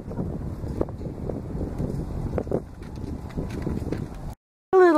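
Wind blowing outdoors with blustery, uneven rumbling gusts that buffet the microphone for about four seconds, then a sudden cut to silence before a short burst of sound at the end.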